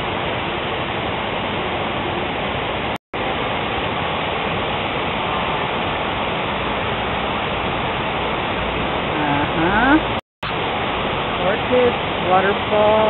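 A waterfall at Sukantara Resort in Chiang Mai rushes in a steady, dense broadband roar, continuous and fairly loud, with a bird call and brief voices faintly over it near the end.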